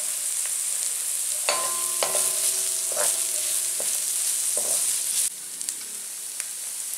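Ginger stir-fried in a pan as a base for jackfruit in coconut milk, giving a steady sizzle throughout with several sharp scrapes and clinks of a utensil against the pan, close and alone.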